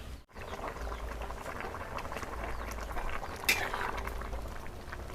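Steady crackling sizzle of tempeh frying in hot oil, loud and close, with a sharp spatter burst partway through.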